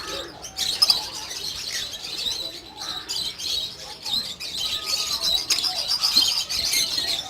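Lovebirds and budgies in a breeding setup chatter and chirp continuously, a dense, bright flock of overlapping tweets with a few louder calls standing out.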